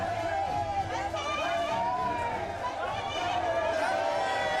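A large crowd in Pagoda Park, Seoul, in a documentary re-enactment, shouts manse in a dense, sustained roar of many overlapping voices.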